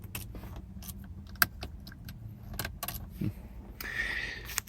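Car keys for a junkyard 1988 Chrysler Fifth Avenue jangle and clink in scattered bursts, close by, with a brighter rattling flurry near the end and no talk.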